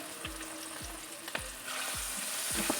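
Marinated fish deep fries in hot oil over a medium-low flame, a steady close hiss with several soft low thumps at regular intervals and the sizzle swelling slightly toward the end.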